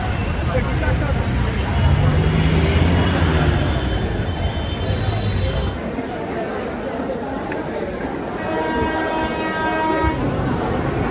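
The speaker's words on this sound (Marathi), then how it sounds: "ही ट्रेन आले चर्चगेटसाठी आणि फास्ट आहे" A fast Mumbai local train bound for Churchgate rumbles in and passes close by, with a horn-like tone and rail noise, then a steady hum and faint voices as it settles.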